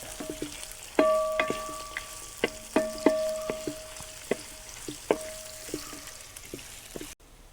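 Chopped onion and carrot frying in oil in a pan for chicken bukhari rice, a steady close sizzle punctuated by repeated sharp clinks and knocks of a stirring spoon against the pan.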